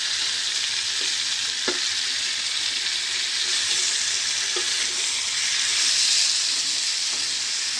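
Fish and potatoes fry in a pan with a constant, loud sizzle, broken now and then by soft scraping taps as the contents are stirred.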